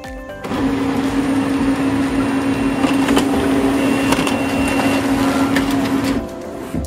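An HP LaserJet Pro 4001n laser printer runs a print job over a wired connection with a steady, loud mechanical whir and hum that starts abruptly, carries light clicks and feed noises, and stops after about six seconds.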